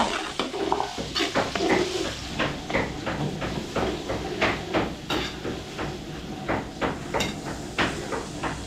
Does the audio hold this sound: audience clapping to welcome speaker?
no